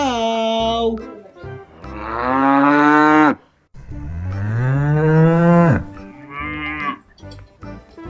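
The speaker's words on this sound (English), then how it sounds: "Wow, this is cow." Cow mooing loudly and close, several long drawn-out lowing calls one after another with rising and falling pitch, no talk.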